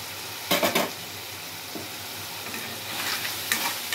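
Onions and green chilies frying in hot oil, a steady soft sizzle with a few sharp bursts of spatula scraping and stirring near the start and again toward the end; no voices.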